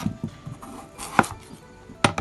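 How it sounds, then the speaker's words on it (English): A knife chopping a potato into quarters on a cutting board for beef korma: a few sharp, close cuts at an irregular pace, with louder strikes near the middle and end and quieter taps between. "Next is the potato. I cut into quarters."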